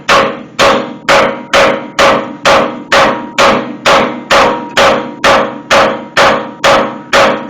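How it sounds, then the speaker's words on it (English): A hammer strikes the steering pitman arm on a Ford Crown Victoria or Mercury Grand Marquis, giving about fifteen loud, evenly spaced metallic blows in a steady rhythm, close and alone. "I'll take a hammer,"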